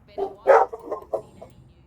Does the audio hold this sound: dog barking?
yes